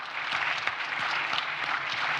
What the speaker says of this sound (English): A round of applause for Zambia.